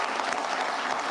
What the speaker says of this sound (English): What's up with these canned claps?